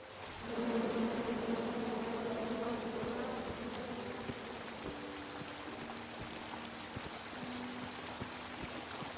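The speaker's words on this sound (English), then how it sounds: "And then you chop down the tree full of angry bees?" Angry bees swarm from a tree in the video game King's Quest, a continuous near buzzing hum that swells loudly in the first few seconds and then holds steady at a slightly lower level.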